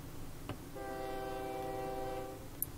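A train in the railway simulation game OpenTTD sounds a long, steady multi-tone horn for about two seconds over a low rumble, with a short click just before it and another near the end.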